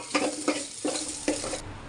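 Rice tipped into hot tempering oil in a pan for dal bhat, giving a few short bursts of sizzling and stirring scrapes in quick succession, close by with no talk.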